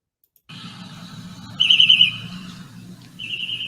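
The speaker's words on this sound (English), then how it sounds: "Those birds were being very loud for 12:17 a.m." Birds chirp and whistle in short bursts against a quiet low hum at 12:17 a.m. in Elk Grove, California, with a trilling call standing out, moderately near and fairly loud.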